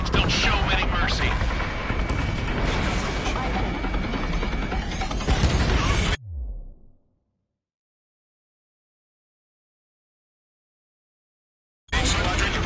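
Aircraft gunfire in Ace Combat 7 comes as a dense, loud, continuous barrage of shots and engine roar that cuts to silence halfway through, then bursts back at the very end.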